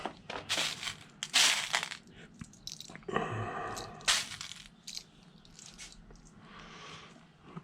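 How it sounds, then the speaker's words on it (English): Metal rivets for a Halloween latex mask are handled up close, giving scattered clinks, rustles and brief crunchy bursts at irregular moments, with no talk. "Now we're going to go ahead and grab these longer rivets."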